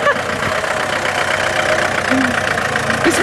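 A van being driven gives a steady, moderately loud engine drone with a low rumble throughout, heard from inside the vehicle with faint road noise.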